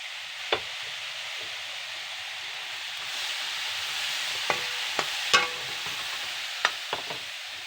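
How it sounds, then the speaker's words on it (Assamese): Spices with turmeric, ginger and garlic paste fry in a pan for an Assamese paneer mutter dish, a soft continuous sizzle with a handful of sharp clicks from stirring spaced irregularly. "ধুনীয়াকৈ ভাজা হৈ গৈছে।"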